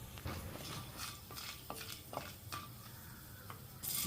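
Whole spices for sambar dry-roasting in a pan, stirred with a utensil that scrapes and clinks against the metal over a faint, steady crackle, close up and quiet with no talking.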